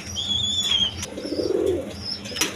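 Chinese Owl pigeons at a pigeon seller's, soft low coos near the middle of a short stretch with faint chirps and background noise, no talk.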